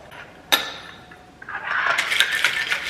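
A cocktail shaker with lemon juice and ice is shaken at home, a sharp clink first, then a steady bright rattling churn building over the last second and a half, close and fairly loud.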